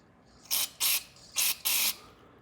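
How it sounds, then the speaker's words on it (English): Four sharp bursts of aerosol carb cleaner hiss out close by, sprayed through the carburetor of a Stihl 028 AV Wood Boss chainsaw, short blasts separated by brief pauses, with no talking. "I'm going to get some carb cleaner and spray through here."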